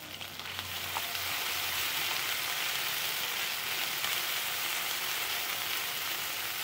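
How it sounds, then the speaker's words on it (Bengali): Ginger and cumin paste frying in a pan as it is stirred, a dense hissing sizzle that swells in the first second and then holds steady and fairly loud. "এবার সম্পূর্ণ মশলাটাকে কিন্তু সুন্দর করে নেড়ে চেড়ে ভেজে নেব।"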